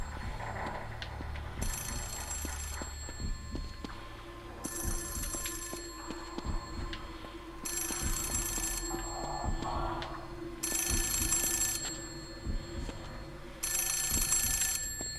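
Telephone ringing in the horror game The Suffering, loud repeated bell bursts about every three seconds over a low ambient game background.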